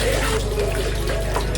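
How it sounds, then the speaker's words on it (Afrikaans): Water streams and splashes steadily as cheese curds wrapped in cloth are twisted and wrung out, a loud, continuous close-up pour with no pause. "Die water word uitgedraai."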